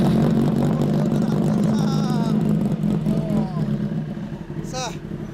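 A 2008 Kawasaki ZX-10R motorcycle with its stock muffler idles with a steady, close low drone under people talking, fading slightly toward the end.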